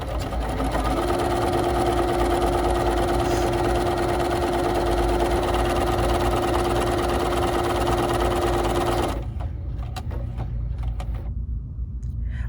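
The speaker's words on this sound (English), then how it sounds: "let's go ahead and do our tulip stitch on our pre-stabilized material" A BERNINA 3 Series sewing machine runs a tulip decorative stitch on pre-stabilized fabric, a steady close mechanical hum and rapid needle clatter for about nine seconds, then stops, leaving a few faint clicks.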